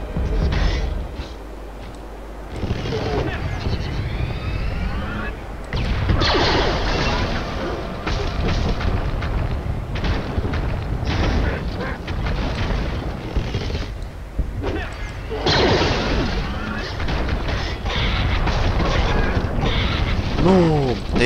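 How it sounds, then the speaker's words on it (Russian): Loud crashing, smashing Angry Birds Star Wars 2 explosion sound effects pile up in a continuous chaotic stream, with booms and rattling debris, close and dense. "Взрыв."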